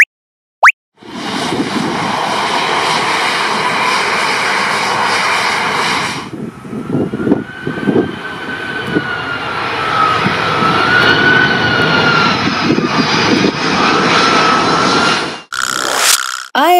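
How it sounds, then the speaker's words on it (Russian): A loud, steady airplane engine roar drones on for most of the clip, with a rising whine in the middle and a brief dip near the end. "Самолет – это летательный аппарат тяжелее воздуха."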